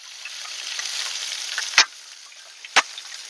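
Garlic, onion and ginger frying in oil until reddish, a steady bright hissing sizzle broken by two sharp louder spits or clinks about a second apart.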